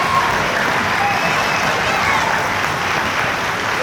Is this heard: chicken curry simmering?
no